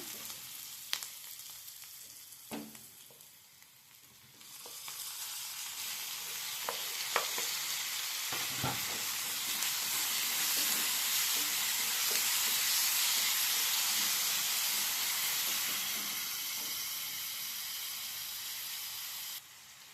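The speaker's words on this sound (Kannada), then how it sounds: "ಈಗ ಚೆನ್ನಾಗಿ ಫ್ರೈ ಆಗಲಿ ಆನಿಯನ್ನು." Chopped onion fries in a pan for erekaayi palya, a soft crackle that swells into a loud, steady hiss and sizzle, broken by a few spoon scrapes and taps.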